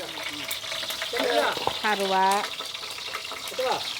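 Cinnamon and whole spices frying in hot oil, a close crackling sizzle running continuously under a man's speech.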